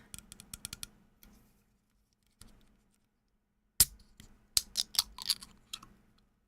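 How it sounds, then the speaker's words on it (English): Opening a drink can for ASMR, crisp close taps and a sharp click followed by a burst of fizzy crackles, quiet gaps in between. "ASMR can opening"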